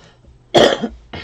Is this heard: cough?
yes